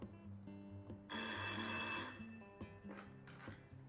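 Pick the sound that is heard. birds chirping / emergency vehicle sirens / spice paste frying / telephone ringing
telephone ringing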